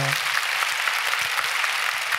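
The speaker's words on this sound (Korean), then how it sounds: "박수 한번 해주십시오" A church congregation at a Sunday service gives a short burst of applause, a steady wash of clapping for about two seconds with a brief voice at the start.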